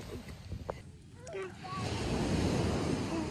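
Sea waves rush and build toward the end at a beach, with wind buffeting the microphone and brief voices underneath.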